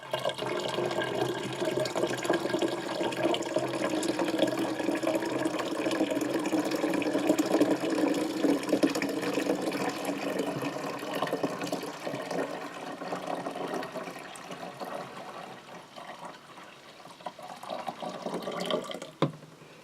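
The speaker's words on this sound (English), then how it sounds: "I'll rinse out both the grape juice carton and this bottle." Water runs steadily into a grape juice carton and a bottle as they are rinsed out during home winemaking, a continuous close splashing and filling that thins out near the end, with no talking.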